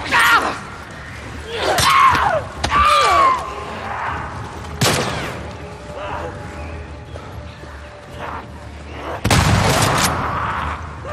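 Gunfire in The Last of Us Part II: a few loud, sharp shots spaced several seconds apart, mixed with voices and other game sounds.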